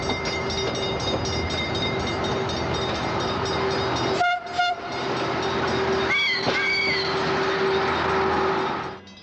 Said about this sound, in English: It's a self-propelled rail car built in Italy by Fiat